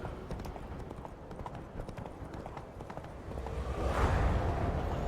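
A horse gallops in The Witcher 3, rapid hoofbeats thudding close, growing louder toward the end with a rushing swell.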